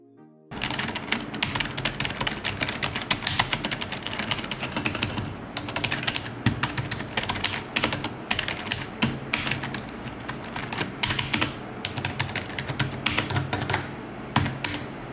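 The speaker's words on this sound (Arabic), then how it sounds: "والان اخليكم تسمعون صوت الكيبورد" Fast, continuous clacking of a HyperX Alloy Core RGB keyboard, close and crisp, in uneven bursts of typing that run without pause and with no voices.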